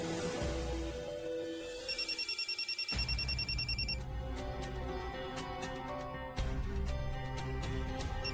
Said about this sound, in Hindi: फोन उठाओ गुंजन, कम ऑन।